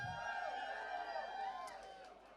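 A live audience at a drag competition show cheers and whoops steadily, with a sustained crowd roar that fades slightly toward the end, heard at a moderate distance.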